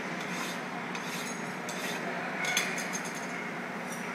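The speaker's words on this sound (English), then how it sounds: "Nice even strokes with the file, using the full amount of the file if you can" A hand file rasps across a metal block being squared, in a run of close, even rubbing strokes with a brief brighter scrape midway.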